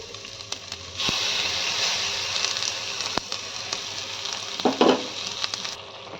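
Yogurt batter is poured into a pan of frying onion and ginger-garlic paste, setting off a sudden loud, steady sizzle that hisses on for several seconds, with stirring clatter near the end before it fades.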